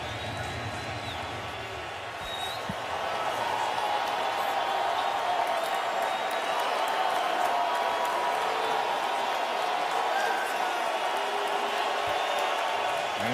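Large crowd at AT&T Stadium during an NFL game, Titans at Cowboys, a broad steady roar that swells after the first couple of seconds and stays loud throughout.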